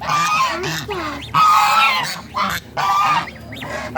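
Ducks kept on a small home farm quack and honk in short, loud bursts close by, several calls overlapping in quick succession.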